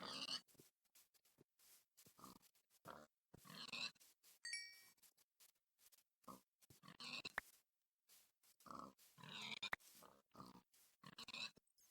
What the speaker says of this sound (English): We do need to kill pigs. There are a lot of pigs in the vicinity